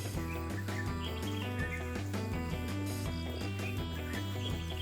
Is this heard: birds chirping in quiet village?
yes